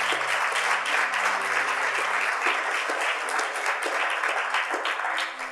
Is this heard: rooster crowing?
no